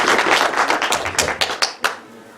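Graduation guests clap in a brief scattered burst of applause, dense hand claps thinning to a few sharp separate claps before stopping, nearby and moderately loud with no talk.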